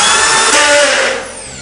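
A screw gun with a clutch drives a screw into a metal stud, giving one loud, close, high-pitched whir that winds down near the end.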